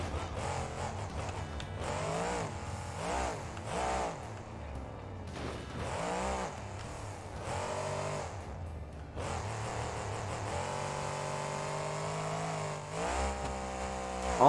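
El Toro Loco monster truck in BeamNG.drive, its engine revving and accelerating steadily with shifting pitch sweeps, loud and close throughout, with tire noise and no talk.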